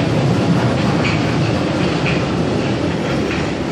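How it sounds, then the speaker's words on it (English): A London Underground Jubilee line train departs Stratford at night, rumbling steadily past with rhythmic clattering wheels and faint squeals, loud and continuous throughout. "And the Jubilee line's going out."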